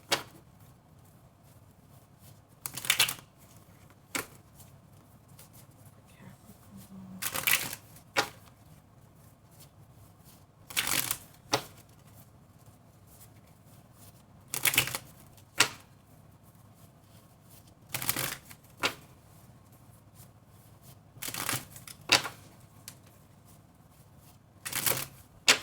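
Wild Unknown Tarot cards are shuffled in sharp, brief riffles and slaps that recur every few seconds across a long stretch, close and crisp over a faint room hum.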